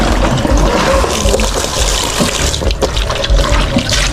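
Water runs and splashes steadily into a container while fish are being cleaned, a loud continuous gushing and trickling with no speech.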